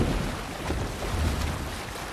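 A sailing ship at sea in Assassin's Creed Valhalla, a brief wash of rushing wind and surging waves against the hull, broad and steady with no voices.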